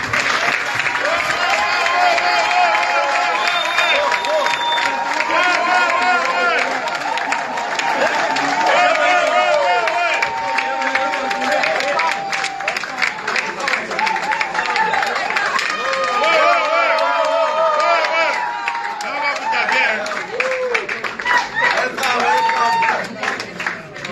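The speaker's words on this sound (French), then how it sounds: "je voudrais que vous les ovationnez, s'il vous plaît" A crowd at a press conference in Cameroon for an upcoming fight gives visiting fighters a long, loud ovation: sustained clapping mixed with cheers, shouts and excited babble of many voices.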